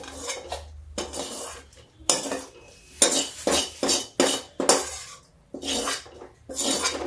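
Roasted green peas scraped from a pan onto a plate, a series of loud metallic scrapes and clinks of a spoon against metal in uneven bursts with short pauses, close up.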